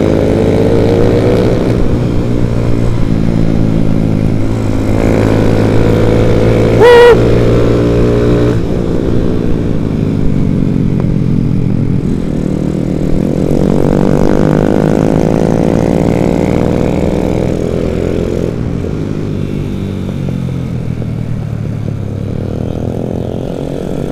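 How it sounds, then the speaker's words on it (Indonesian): Road race motorcycles practising at the Bung Tomo circuit in Surabaya: loud, sustained engine roar that rises and falls as bikes rev and pass close by, one after another, with no talking. "Aduh, ada yang latihan road race"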